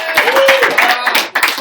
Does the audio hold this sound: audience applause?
yes